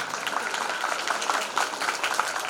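An audience claps at a school award ceremony and cultural festival, a steady wash of many hands applauding together at moderate distance for the whole stretch.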